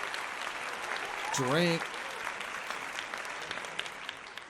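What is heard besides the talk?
applause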